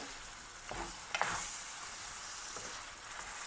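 Lasagna meat sauce is stirred in a pan, a soft low simmering sizzle with a few quick scraping strokes and a small clatter near the middle, quiet and close.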